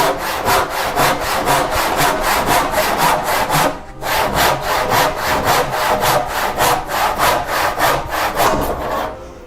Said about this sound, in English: You can see this is a left-handed handsaw.